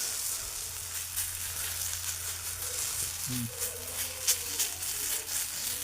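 Thalipeeth batter sizzles steadily on a hot griddle set over a wood-fired stove, a soft continuous frying hiss with a few faint clinks near the end and no talk.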